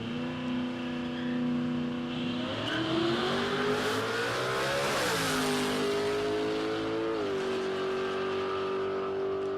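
A Jeep launches in a drag race at Palmyra Raceway, its engine revving hard with rising pitch through several gear shifts, loud and sustained as it accelerates down the strip.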